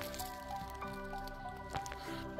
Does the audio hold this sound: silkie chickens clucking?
no